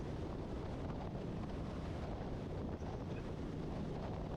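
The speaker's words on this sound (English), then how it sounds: "I'm hitting a strong headwind." Steady, roaring wind from a strong headwind buffeting the microphone of a moving motorcycle on the Grapevine, a constant low rush with no voices.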